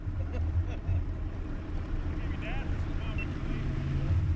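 A low, steady boat motor idles up a creek off the Ohio River, with a constant rumble under wind and faint water noise; a few birdlike chirps appear midway.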